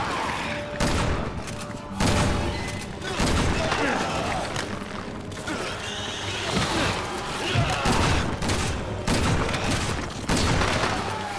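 Dense gunfire from the video game Resident Evil 6, with volleys of shots and booms filling the scene continuously and loudly, layered with game effects and voices talking over it.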